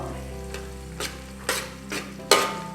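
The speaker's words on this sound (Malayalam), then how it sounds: "കൊച്ചുള്ളി ഇട്ടിട്ട് നമുക്ക് നല്ലോണം ഒന്ന് ഇളക്കാം." Small shallots sizzle steadily in hot oil in a pan for a spicy Kerala-style beef curry, while a spoon scrapes and stirs them in five distinct strokes over the constant frying hiss, close and clear with no talk.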